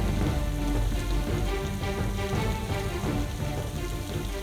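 Heavy rain pouring down in a steady, dense hiss with pattering drops on surfaces, loud and continuous, with no voices over it.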